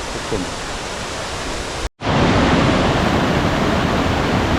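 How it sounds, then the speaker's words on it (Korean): Water pours into a large pool below a thin, trickling waterfall in Jirisan's Baemsagol valley, a dense continuous rush heard up close with a momentary cut partway through. "소가 엄청 큰데 폭포는 지금 쫄쫄인데요"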